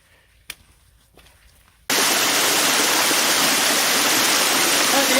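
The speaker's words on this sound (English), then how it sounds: "I'm back at the waterfalls again" A mountain waterfall cuts in abruptly after a near-silent start with a couple of faint knocks, then roars loud and close as a dense, unbroken rush of falling water.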